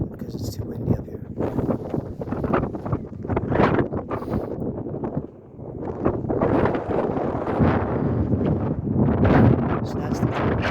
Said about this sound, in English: it's too windy up here